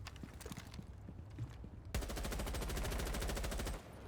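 Automatic gunfire in Rainbow Six Siege on the Kanal map: a few scattered shots, then a continuous rapid burst of nearly two seconds, close and loud with no talking.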